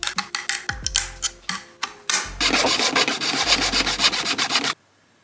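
A file and sandpaper work 3D-printed resin parts of a Forge World Stormbird gunship model, first in short rhythmic rasping strokes and then in one long continuous scrubbing run, close and loud, ending abruptly.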